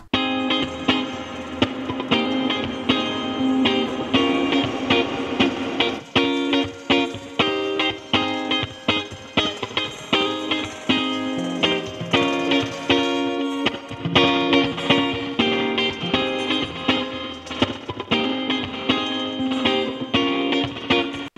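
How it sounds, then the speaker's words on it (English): Rhythmic electronic music plays with a heavy wash of randomized reverb from the Cloudmax 2 effect plugin and shifting effects, the pulses repeating steadily throughout. "Let's randomize the reverb as well."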